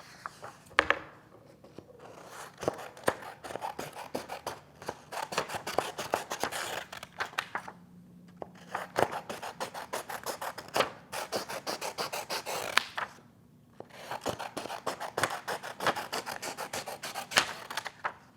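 Scissors cut colored paper strips for a garland, producing repeated crisp snips and rustling paper scrapes in uneven bursts, close up with no talking.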